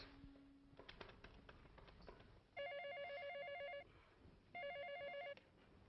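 Two bursts of an electronic telephone ring, a warbling repeated tone, sound loud and close in a quiet indoor room after some soft tapping and handling noises.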